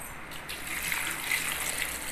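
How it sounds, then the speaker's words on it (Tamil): Water poured into a pot of spinach, tamarind, onion, cumin, turmeric and asafoetida for village-style cooking, a steady close gush of liquid without pause. "இப்போ தண்ணி ஊற்றிடலாம்."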